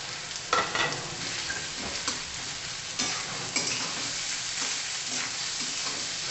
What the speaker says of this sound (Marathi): कांद्याचा कच्चेपणा जाईपर्यंत आपण परतून घेणार आहोत